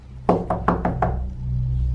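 Five quick knocks rap on a door in an even rhythm, close and fairly loud against a low background hum.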